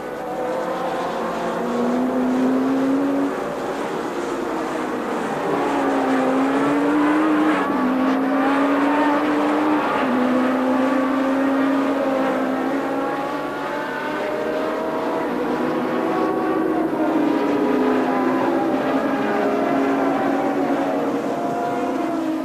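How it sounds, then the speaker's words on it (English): Formula One cars racing at the 1982 Brazilian Grand Prix, including Cosworth-powered Williams and turbo Renaults, give loud, high-pitched engine howls that rise and fall in pitch as cars pass and shift gears under a continuous roar. "The Renaults were up there too, but somehow Keke Rosberg's Cosworth Williams had included itself in the party."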